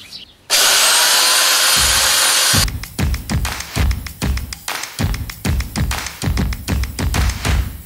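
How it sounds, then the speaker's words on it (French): A power sander whines loudly and steadily on wooden boards for a workbench for about two seconds, then gives way to a rapid series of close, rhythmic knocks and taps on the wood. "entre chaque planche on va venir poncer tout ça"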